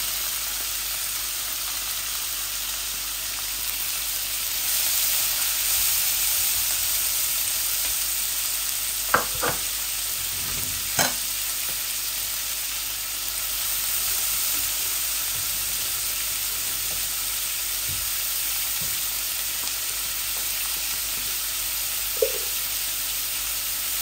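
Onions sizzle in hot oil in a pan for a koi fish curry, a steady close hiss throughout with a few brief clinks and stirring knocks.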